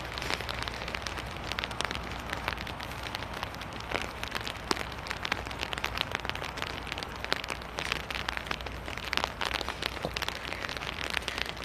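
Steady rain falling in Seoul, South Korea, a dense even hiss of drops striking surfaces with scattered sharper patters, continuous and fairly close throughout, with no voices.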